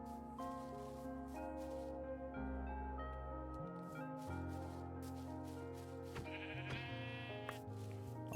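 A two-headed sheep in a video game gives repeated loud, wavering bleats in overlapping bursts that continue throughout.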